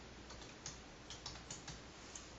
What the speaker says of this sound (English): now you type in TestNg